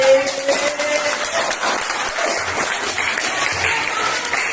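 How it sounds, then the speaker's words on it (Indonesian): Students in an economics class applaud a presenter, a steady, dense patter of many hands clapping at an even level throughout, with a brief tone near the start. "Iya, beri tepuk tangan."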